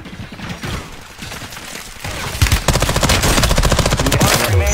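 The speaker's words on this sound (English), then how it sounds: "Hey, wait, I'm getting shot at" Video game gunfire builds from scattered shots into a rapid, sustained automatic burst, loud and close, with a quieter stretch of game noise before the rattling fire takes over.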